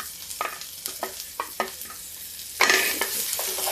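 Ginger, onion and green chili hit hot oil with a sudden loud sizzle after a few sharp stirring scrapes, the frying hiss staying strong and close, with no voices over it.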